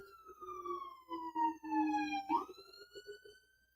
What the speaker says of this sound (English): Let me let this damn siren come by,